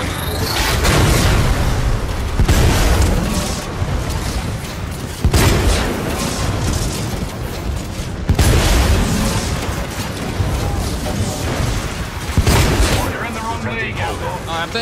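Titanfall 2 Salvo Core missile barrage: repeated loud blasts and rumbling booms in dense waves, several sharp onsets roughly every few seconds, with a voice talking over the noise.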